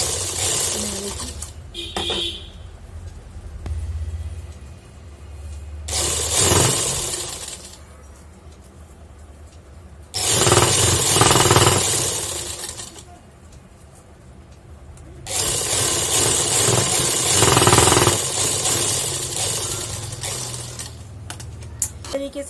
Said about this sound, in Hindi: इस तरह से सिलाई लगाने के बाद एक सिलाई हम यहाँ पे भी लगा लेते हैं